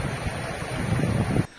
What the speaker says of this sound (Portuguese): o barulho lembra muito uma cachoeira.